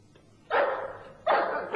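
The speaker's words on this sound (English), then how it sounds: "I'll shoot the dog as it comes out." A dog gives two loud, close barks about three quarters of a second apart. Each is sharp and slightly drawn out.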